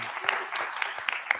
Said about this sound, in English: Can we clap again? Like one more time?